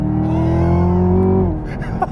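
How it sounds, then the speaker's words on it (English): Exhaust of a 2017 Chevy Camaro ZL1, a loud, close, deep droning rev that holds steady, then drops off and fades into quieter rumbling. "Every time I turn on, you almost start laughing because the exhaust is so good."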